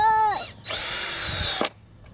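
A power drill drives 2-inch regular wood screws, without pre-drilling, into boards for a DIY raised garden bed: a short rising whir, then a sustained loud buzzing run of about a second that stops abruptly, close and with no talk.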